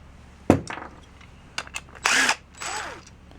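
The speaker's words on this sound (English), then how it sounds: "I'm using a socket with a electric drill, and I'm going to take these ends off of here, these 7/16 nut bolts off of here." An electric drill fitted with a socket backs out 7/16 nut bolts from a Gretsch or Camco bass drum rail mount: a few sharp metallic clicks, then two short close whirring bursts.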